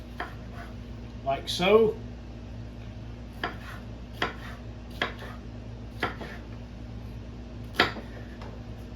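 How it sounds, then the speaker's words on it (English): A knife slices peppers thin on a cutting board for a smoked pork prime rib dish, giving a series of sharp, evenly spaced taps close by, with a brief spoken comment and a short rustle early on. "Next up is the peppers. Going to slice these thin."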